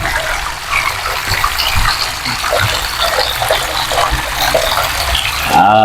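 Ten water faucets fitted to a single hand wash basin gush together in a loud, steady broadband rush of running water, with a brief clatter near the end.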